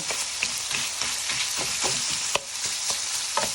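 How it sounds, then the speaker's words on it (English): Cubes of eggplant about a third of an inch across fry in a hot pan, giving a close, loud, steady sizzle with brief clicks and scrapes of stirring and no talking. "We're going to throw in our cubes of eggplant that we've gotten like 1/3 inch size cubes."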